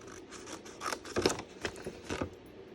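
Scissors trimming paper for a Valentine cupcake treat box, a close, quiet series of crisp snipping cuts in a quick irregular rhythm.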